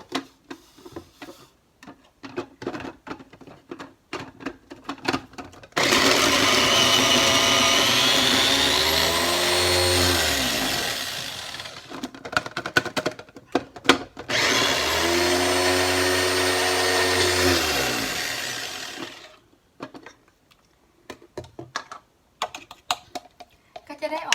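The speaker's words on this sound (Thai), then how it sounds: "หั่นหยาบแล้วก็ใส่ลงไปในเครื่องนะคะ แล้วก็จะบดกัน" An electric blender grinds coarsely chopped garlic, shallots and ginger in two loud, whining bursts of several seconds each, the motor pitch rising and falling, separated and surrounded by clicks and kitchen clatter.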